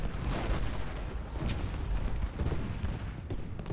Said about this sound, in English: Now the big battery is firing.